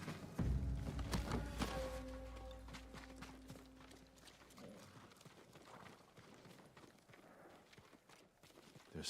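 Samurai horses in the video game Ghost of Tsushima clip-clop in a quick run of hoof thuds, loud and close with a boomy game soundtrack swell at first, then lighter scattered hoofbeats, with no talk.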